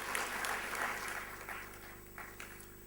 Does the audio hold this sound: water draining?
no